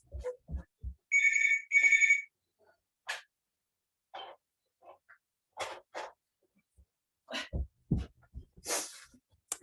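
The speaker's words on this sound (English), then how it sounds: "I have to turn that phone off" A telephone rings with two short bursts of a bright electronic trill near the start, followed by scattered quiet speech and small noises from a person talking nearby.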